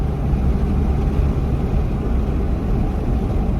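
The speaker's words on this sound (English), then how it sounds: "I'm just hearing wind noise." Steady, broadband rushing wind roaring through an open window of a new Toyota Tacoma pickup, dense and low-heavy, with a constant engine rumble beneath and no voices.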